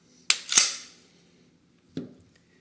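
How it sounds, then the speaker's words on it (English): Magazine seated into an HK USP .45 pistol during reassembly after a field strip: two sharp metallic clicks in quick succession, then a single softer click a moment later, close and isolated. "The last thing we want to do is insert the magazine and check for last round hold open."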